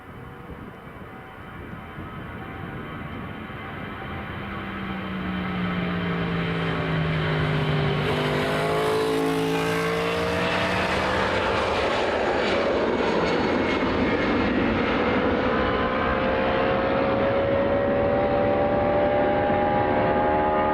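An Aer Lingus airliner takes off at Dublin Airport, its engine roar rising and swelling as it passes close with a sweeping pitch shift, then holding loud and steady while climbing away.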